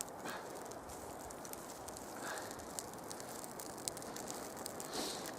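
Birch bark kindling catches in a campfire, giving a steady faint crackle and hiss with scattered small pops and snaps and no voices.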